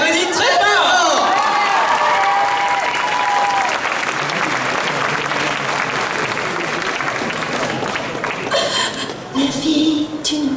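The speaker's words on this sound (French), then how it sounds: "On les applaudit très fort." Loud audience applause at a fan convention stage show after a princess song performance, dense sustained clapping mixed with cheers, whoops and laughter, with voices and a brief musical cue near the end.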